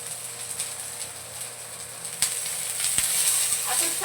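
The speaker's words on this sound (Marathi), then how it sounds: "आता चांगलं आपण मऊ होईपर्यंत परतून घेऊया" Masala with chopped tomato and fresh coriander sautéing in a pan for a Maharashtrian katachi amti, a steady soft sizzle with a few stirring scrapes, close and without talk.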